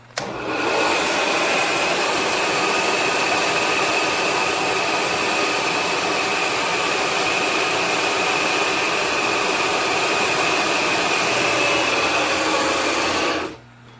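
A 1969 Clausing Kondia Powermill milling machine running at 360 RPM on the bottom pulley: a loud, steady motor roar with a constant whine, starting abruptly, holding evenly for about thirteen seconds, then cutting off.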